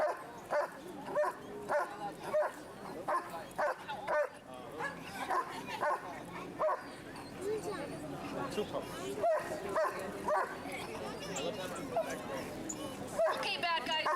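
Protection dogs at a K9 academy bark repeatedly and sharply at decoys teasing them, a rapid string of close, loud barks with yips and whines, people's voices mixed in.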